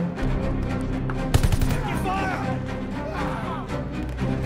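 Rapid gunfire bursts in Call of Duty Vanguard, with a loud volley near the middle amid battle noise and shouted voices.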